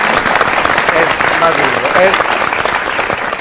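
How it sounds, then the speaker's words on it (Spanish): Audience applause fills a hall in a steady, dense wash of clapping from start to end, with a voice speaking briefly over it. "Un aplauso."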